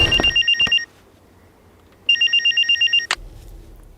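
A telephone rings twice in quick electronic trills, each burst lasting about a second with a gap between them, loud and close, followed by a brief click and low background noise.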